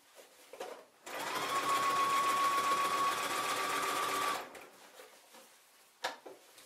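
A sewing machine stitches steadily through the thick, bulky hem of a pair of jeans, running loud and close for about three seconds before stopping, with faint handling noises before and after.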